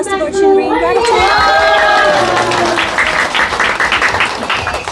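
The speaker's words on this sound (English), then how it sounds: "A big round of applause to Lord Shinri in gratitude." Audience at a spiritual gathering breaking into loud applause mixed with crowd chatter and cheering, with a voice speaking over the start.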